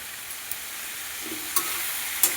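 Baul fish curry cooking in a frying pan, a soft continuous sizzle broken by three sharp spatula clicks against the pan as it is stirred.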